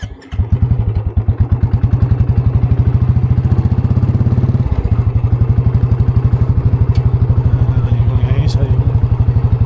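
A motorcycle being ridden on a mountain road in Manang, Nepal, its engine loud and close with a fast, even thumping pulse that holds steady throughout, with a short shift in pitch midway.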